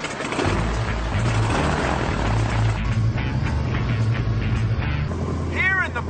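Steady loud cabin roar of an airplane in flight, a continuous low engine and airflow drone with no breaks.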